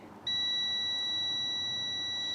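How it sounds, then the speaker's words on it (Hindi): A multimeter on continuity test gives a steady, high-pitched electronic beep while its probes touch a low-value resistor on a mobile phone board, starting abruptly and holding unbroken, clear and close in a quiet room. "इसकी वैल्यू 50 ओम से कम होती है, इसलिए ये बीप दे रहा है"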